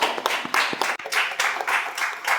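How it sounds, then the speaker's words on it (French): A church congregation applauds a choir after a Mass, with steady, dense clapping from many hands filling a reverberant room. "On peut applaudir."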